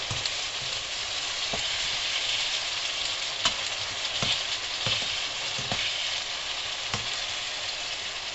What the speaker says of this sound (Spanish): Sobre todo el ajo que esté fritito.